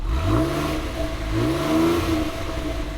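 A 2016 Ford Explorer Platinum's 3.5-liter turbocharged V6 accelerates, its engine note climbing and dropping in pitch twice as revs build, loud and close with a steady road rush underneath.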